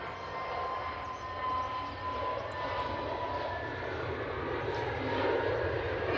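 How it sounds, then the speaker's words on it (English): An EasyJet Airbus A320neo departs Manchester Airport bound for Tenerife, a sustained loud engine roar holding steady and swelling slightly near the end. "EasyJet A320 Neo heading to Tenerife"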